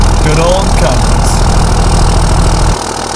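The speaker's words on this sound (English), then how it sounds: "Starts right up there, no problems. Good old Cummins." A Dodge Cummins diesel with a straight-pipe exhaust idles loudly after a cold start at about 20 degrees, a steady, heavy rumble with a rhythmic low-end throb that drops slightly in level near the end.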